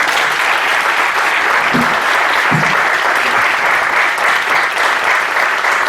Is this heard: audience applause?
yes